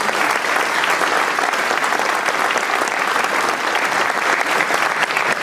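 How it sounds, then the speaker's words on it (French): Sustained applause from an audience at a mayor's New Year address, dense steady clapping of many hands throughout with no talk over it. "oui, vous pouvez les applaudir évidemment."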